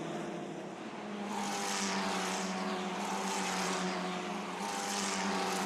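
Formula Regional race cars at Spa-Francorchamps descending through Rivage, a steady loud engine drone with several passing surges, continuous and close throughout.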